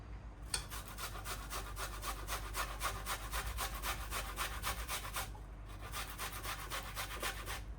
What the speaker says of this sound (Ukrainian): Мені краще подобається, коли я його натираю.